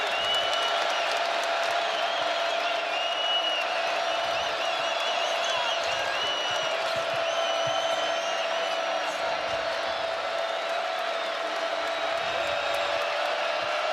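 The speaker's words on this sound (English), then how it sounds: "And here comes the crowd" Crowd noise in a college basketball arena during a Houston versus BYU game, a steady dense roar of cheering and shouting that swells without pause, with faint voices threaded through it.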